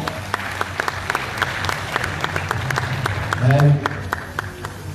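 An evening event audience applauds a florist partner with sharp, fairly close claps in a steady patter, and a voice briefly speaks over the clapping near the end.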